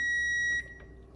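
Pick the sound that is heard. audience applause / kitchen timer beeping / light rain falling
kitchen timer beeping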